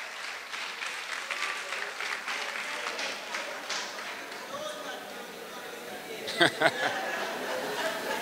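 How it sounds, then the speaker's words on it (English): Audience applause at a monthly meeting of a Trinidad and Tobago retired persons' association, steady clapping from a room of people with murmured chatter, followed by a couple of louder knocks. "Give her a round of applause there for me."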